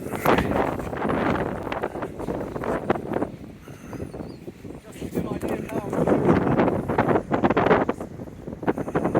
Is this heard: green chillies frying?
no